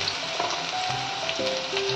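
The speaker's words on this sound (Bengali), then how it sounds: "পেঁয়াজ ফোড়ন দিচ্ছি" Chopped onion frying in hot oil, a dense continuous sizzle close up with small crackles and stirring, no talking.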